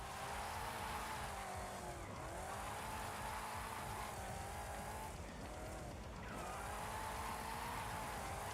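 A rear-wheel-drive 6.2-litre V8 car producing 750 bhp drifts in first gear in Forza Horizon 5, its engine revving high and steady with a rising and falling pitch and squealing tyres, close and alone.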